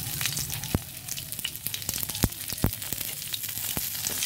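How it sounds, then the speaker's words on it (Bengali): Whole cumin seeds and a bay leaf sizzle in hot oil, a steady close frying crackle dotted with sharp pops and spits, with no talking. "দিয়ে দিলাম গোটা জিরে, হালকা একটু ভেজে নিচ্ছি।"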